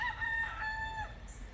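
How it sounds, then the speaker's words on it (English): A rooster crows once from a short distance, a single drawn-out call that rises and trails off over a low background rumble, alone without talk. "those chickens right there"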